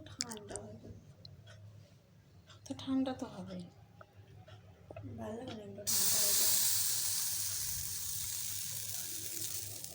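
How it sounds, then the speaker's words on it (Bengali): Pitha dropped into hot oil in a pan sets off a sudden loud, steady frying sizzle and hiss that continues to the end, preceded by someone talking over faint kitchen sounds. "আর একটা পিঠে ভেজে নেব দেখাচ্ছি তোমাদের দেখো"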